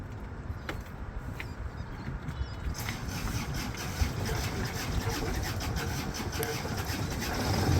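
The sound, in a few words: sailboat engine starting and running on test run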